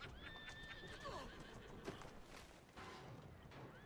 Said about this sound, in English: the horse and cart is doing my job for me